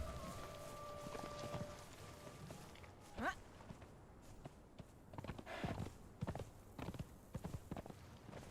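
Horse hooves clip-clopping in the video game Conan Exiles, a steady run of soft, fairly quiet hoofbeats under ambient game noise, with a whooshing effect partway through.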